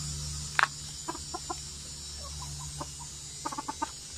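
Rhode Island Red hens clucking nearby in short, scattered bursts, a few soft clucks at a time against a steady low background hum.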